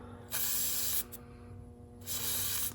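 Quick bursts of air hiss from a Ryobi TPMS sensor being unscrewed from a tire valve, two distinct sprays separated by a short pause with a brief puff between, close and clear.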